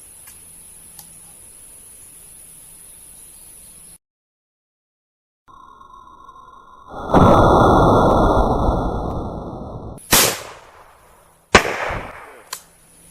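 .410 shotgun slug fired outdoors into four boards: a loud rushing noise swells and fades, then sharp, close bangs crack out one after another.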